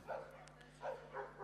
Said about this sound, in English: This is her dog Skip, 7 years of age, a Labrador Greyhound cross.